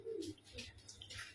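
A pigeon in a keeper's collection gives a short, soft coo at the very start, with light hissy rustling and clicks through the rest of the brief moment.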